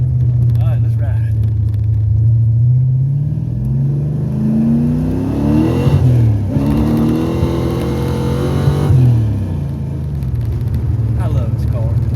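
A Mercury Capri foxbody car drives with its engine revving up and down in rising and falling sweeps, loud and close throughout, with a voice talking over it.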